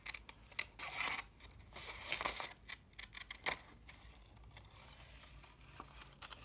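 Scissors snipping paper for a positive/negative space hand collage, slow, close, uneven cuts with soft crinkles and pauses as the paper is turned, no talking.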